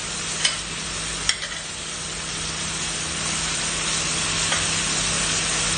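Garlic and chili frying in a pan for spicy sardines with pumpkin and okra, a steady bright sizzle with a couple of sharp clinks of stirring near the start.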